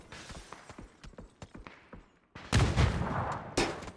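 Gunfire in an esports video game match, with sharp separate shots early on, then a burst of loud dense firing and impact noise close up, with no talk over it.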